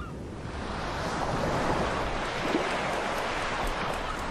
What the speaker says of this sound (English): Here, wind and wave eat away at the rock